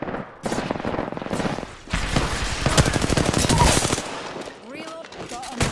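Rapid automatic gunfire from the video game Apex Legends rattles in dense, loud bursts across the whole stretch, with game voices and effects mixed underneath and a short lull near the end.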